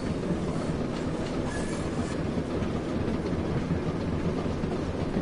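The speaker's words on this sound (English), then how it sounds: "Trains and trucks all over the place." A vast rail yard in Train Sim World's Tees Valley Line gives a continuous rumble of rolling train wagons, with a brief high wheel squeal and rhythmic clatter layered in, steady and moderately loud throughout.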